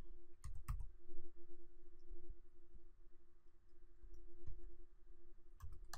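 Faint, sparse clicks of a computer keyboard being typed on at a desk, a few separate keystrokes spread over a quiet background hum.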